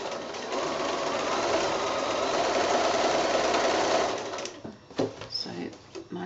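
A home sewing machine stitching down quilt binding on a woodland patch quilt runs steadily and fairly close for about four seconds, then stops, leaving a few scattered handling noises and softer sounds.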